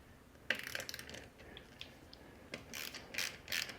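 Bolts on a SRAM G2 bicycle disc brake bracket being loosened with a tool, giving a few soft ratcheting clicks and small metallic ticks in short bursts, close up and fairly quiet, with no talking.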